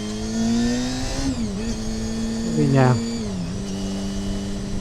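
A Honda CBR250RR MC22 motorcycle engine revs with rising and falling pitch, a quick climb and drop in the middle, heard close under a man's speech.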